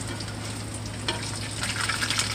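Southern cornbread frying in hot grease, a steady close crackling sizzle that swells slightly louder partway through, with no voices.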